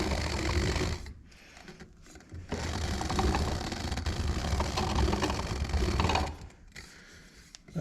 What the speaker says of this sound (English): One turbo pipe all swaged up.